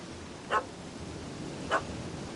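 A puppy in a video game barks at a cat that has fled up a tree, giving two short, sharp yaps about a second apart over a soft ambient background.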